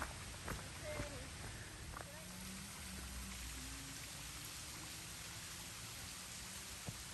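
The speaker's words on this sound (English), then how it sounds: "Big old gorge with a really nice waterfall." A waterfall in a big gorge along the North Country Trail gives a faint, steady rushing wash of falling water, heard from a distance with a few soft knocks and a quiet voice.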